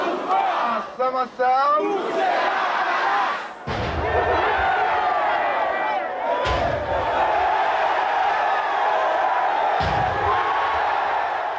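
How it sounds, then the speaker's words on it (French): A frenzied Haitian crowd roars and acclaims a leader it hails as a messiah, a loud, dense and continuous wall of massed voices, with rhythmic chanting near the start and a few sharp thumps. "La foule en délire acclame celui qu'elle considère comme son messie."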